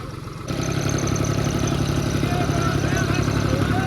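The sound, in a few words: Swaraj tractor engine driving out of offroad track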